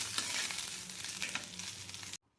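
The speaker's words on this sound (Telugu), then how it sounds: "ఇప్పుడు ఇందులోకైతే టమాటా ముక్కలైతే వేసి వేయించుకోవాలి" Tomato pieces fry in a pan for a Telugu roti pachadi chutney, a loud, dense, close sizzle with faint stirring scrapes that cuts off abruptly at the end.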